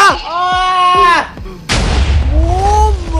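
A loud explosion in Minecraft bursts in midway, a sharp blast followed by a rumbling decay, after a stretch of game sounds with tonal bleating-like effects, and a voice briefly audible.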